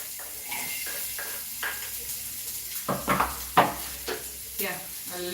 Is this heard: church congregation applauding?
no